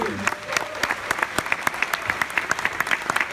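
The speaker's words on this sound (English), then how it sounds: "I want everybody to have a big round of applause for all these amazing people." Theatre audience applauding a film panel at the Egyptian Theatre, a steady patter of many hands clapping with sharp individual claps standing out, while a voice speaks briefly over the start.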